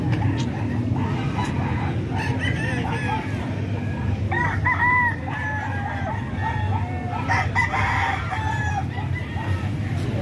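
A gamefowl rooster crows repeatedly and loudly nearby, a series of rising and falling calls following one another over a steady hum of background noise.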